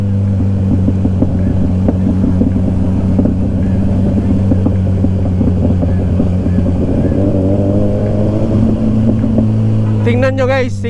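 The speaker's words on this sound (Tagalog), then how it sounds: "Engine brake lang talaga." A Kawasaki Ninja 1000SX engine-brakes down a steep road on a rainy ride, a loud steady drone full of wind rush with a rider talking over it.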